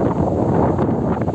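Strong wind gusts of about 37 km/h buffet the microphone in a steady, loud roar while a toy drone flies outdoors, with dense low rumbling and no speech.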